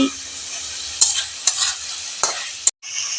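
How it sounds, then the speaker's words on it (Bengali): Chopped green chillies stirred in a frying pan over steady sizzling oil, with a few sharp spoon clinks against the pan and a brief drop in the sizzle near the end. "এখন কাঁচা লঙ্কাগুলোও দিয়ে দিচ্ছি।"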